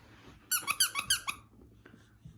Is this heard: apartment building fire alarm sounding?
no